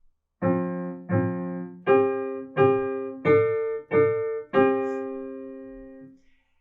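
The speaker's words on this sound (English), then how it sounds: "I harmonized it all in perfect fifths" Seven sustained piano-like notes in parallel perfect fifths trace Twinkle Twinkle Little Star, each struck chord ringing and fading, with an open, hollow quality.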